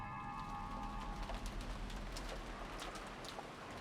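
Steady rain on a stormy night in the visual novel Umineko When They Cry, a constant wash of falling water with faint scattered drops and a brief tonal hum near the start, no voices.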